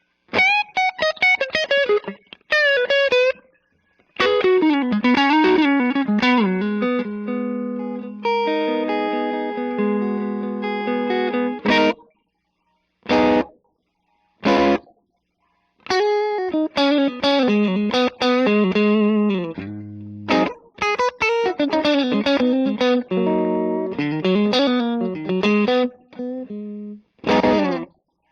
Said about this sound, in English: what you're hearing now is a little bit of an added slapback delay